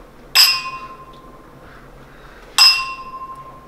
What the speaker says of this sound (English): now we're gonna sample some glasses clinking around